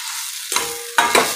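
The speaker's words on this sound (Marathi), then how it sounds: "याला छान असं परतून घेऊया।" Mashed boiled potatoes sautéed in a pan, with a spoon scraping and stirring in two short bursts over a soft sizzle, close and fairly loud, with no talking.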